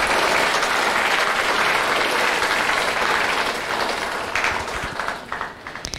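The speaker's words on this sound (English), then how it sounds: "please help me give her a round of applause to thank her for her efforts" An audience at an art exhibit event claps in a steady, full round of applause that gradually thins into scattered claps toward the end.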